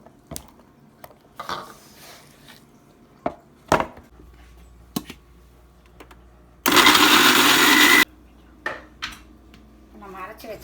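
A mixer grinder blending onion and tomato whirs loudly for about a second and a half amid scattered kitchen clatter and thumps, with faint talk nearby.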